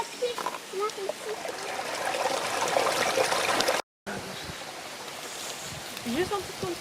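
Water trickles and flows through a stream in a ravine during a World Cleanup Day outing, a steady burbling wash with small splashes, heard under nearby children's and adults' voices.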